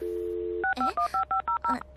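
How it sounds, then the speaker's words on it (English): A steady dial tone on a phone line, then a quick run of about seven touch-tone dialing beeps as a dial-up modem starts connecting in an anime-style scene, clear and close with no talk. "She's probably trying to connect with a modem."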